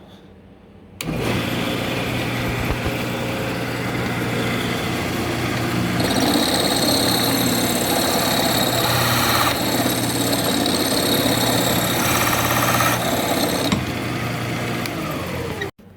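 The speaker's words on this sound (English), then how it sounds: "Got my shopsmith speed going as slow as possible setting, and just taking a little nibble at a time." A Shopsmith lathe runs at its slowest setting, turning a spalted walnut bowl. A loud, steady machine hum and whine starts after a second, shifts in tone midway as light cuts are taken, and stops abruptly near the end.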